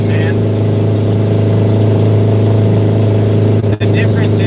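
A truck's engine drones loud and close in a steady rumble with a sustained revving tone, people talking over it and a brief dip in the noise near the end.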